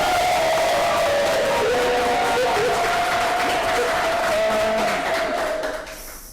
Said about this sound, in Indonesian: Tepuk tangan dulu Pak Sukma dong